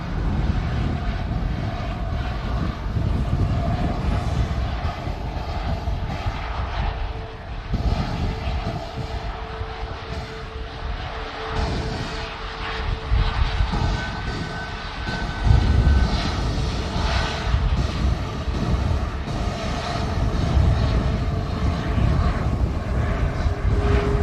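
Boeing 737 MAX jet engines at Manchester Airport in strong winds, a steady loud roar of engines and gusting noise that swells toward the end, with faint voices now and then.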